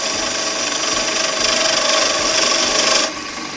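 A spindle gouge cutting wood on a lathe, a steady loud rasping hiss that runs for about three seconds and then drops away abruptly.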